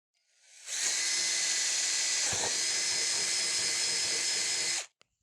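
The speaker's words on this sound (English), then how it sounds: "And drill again." A power drill whirs steadily at high speed for about four seconds while drilling bodywork on a 1991 Yamaha FZR 600 track bike, spinning up and then cutting off abruptly, close and fairly loud.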